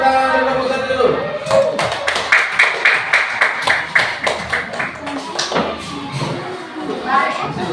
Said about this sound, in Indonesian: Kita tepuk tangan kelompok 1 dulu.